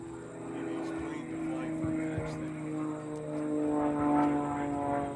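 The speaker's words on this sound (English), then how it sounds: "See the airplane porpoising up and down." An Extra 300L aerobatic airplane drones steadily at a distance at a US national aerobatics competition, its propeller engine note rising and falling as it flies, while a commentator talks over it.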